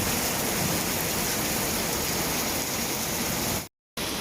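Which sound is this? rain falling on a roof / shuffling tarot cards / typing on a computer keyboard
rain falling on a roof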